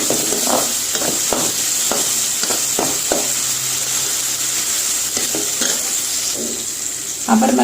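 Tamarind and coconut sizzle in a hot pan as they fry, a steady crackling hiss broken by repeated scraping stirs at an uneven rhythm, with no one talking.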